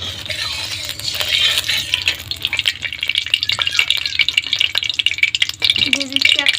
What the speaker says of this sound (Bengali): কড়াইয়ের মধ্যে আমি তেলও দিয়েছি। তেলে আমি দিয়ে দেবো জিরে ফোড়ন,